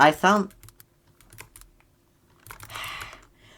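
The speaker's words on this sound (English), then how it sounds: "Press E on your keyboard, then G, rapid succession." A short burst of quick key presses on a computer keyboard, clicking rapidly near the end after a few scattered taps and a brief voice at the start.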